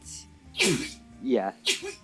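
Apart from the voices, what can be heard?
sneeze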